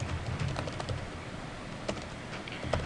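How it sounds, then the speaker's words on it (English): Computer keyboard typing, a quiet run of soft, irregular key clicks with a few sharper taps, heard alone at close range. "Don't mind my typing."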